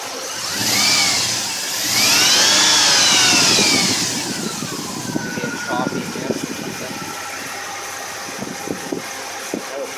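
A Dodge Durango engine with a rough idle, revved loudly twice near the start and then settling into an uneven, shaky idle nearby, with someone talking over the later part.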